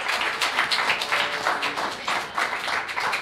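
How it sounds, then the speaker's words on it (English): An audience at a city council meeting claps in sustained applause, an even, dense patter of hands that carries on steadily throughout with no talking over it. "So one last round of applause for Joey Pilato."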